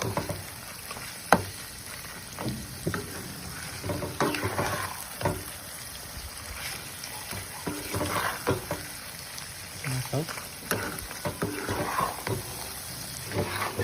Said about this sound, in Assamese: এতিয়া ধুনীয়াকৈ ভাজি ল'ব আদা নহৰু লগত, আদা নহৰু ধুনীয়াকৈ গলি যাব